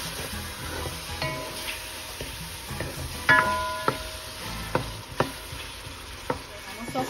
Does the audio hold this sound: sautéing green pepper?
yes